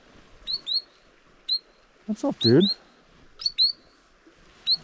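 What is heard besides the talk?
small shorebird chirping by a mountain creek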